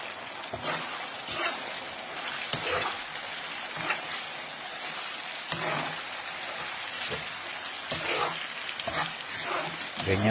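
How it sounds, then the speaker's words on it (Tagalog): Homemade pork tocino fries in its own rendered fat, a soft continuous sizzle with bubbly spatter and occasional sharper crackles, close but fairly quiet and uneven in intensity. "Ganyan po ang pagluluto sa tocino."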